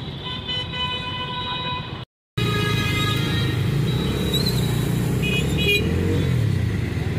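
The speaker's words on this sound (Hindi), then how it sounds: "ट्रैफिक ही ट्रैफिक है, क्या बोले।" Busy Raipur city road traffic heard from a moving Bajaj Dominar 250 motorcycle, with a steady engine and traffic roar, scattered car horn toots and a brief dropout in the middle.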